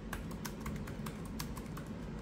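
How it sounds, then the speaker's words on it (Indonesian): Typing on the keyboard of an Advan WorkPro laptop, a quick, steady run of soft, close, quiet key taps. "sekarang kita coba ngetik aja"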